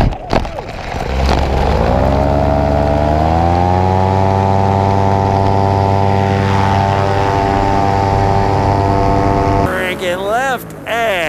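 A 2018 paramotor air trike engine in flight, a loud, droning propeller buzz that climbs in pitch as throttle increases, then holds steady before shifting near the end.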